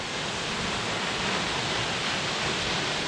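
Dags Falls, a waterfall by a lake in south-east Queensland, gives a steady, broad rushing roar heard from a landing, continuous and even with no talk.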